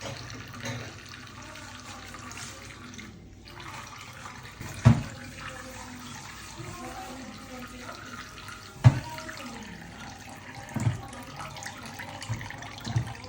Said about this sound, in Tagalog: Mahugasan natin to ng maigi kawandero